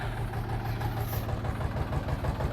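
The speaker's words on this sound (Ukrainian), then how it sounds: "трактор працює як годинник, не курить" A Kentavr 244SX tractor with about 400 engine hours runs at a steady idle nearby, giving a continuous low, even engine drone with no change in pace.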